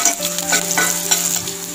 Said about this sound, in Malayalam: അപ്പോൾ പച്ചമുളക് നന്നായിട്ട് ഫ്രൈ ആവുമല്ലോ.